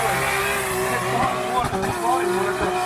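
A long Toyota Chaser drift car screams past on track under a big clutch kick, engine revving hard with tire squeal, while a commentator talks over it.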